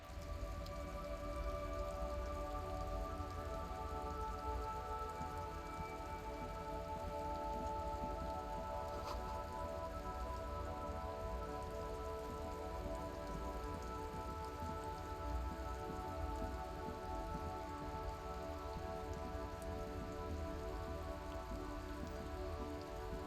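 Rain falls steadily and softly in the video game Disco Elysium, a constant, even patter that holds quietly over a low ambient hum and stays level throughout.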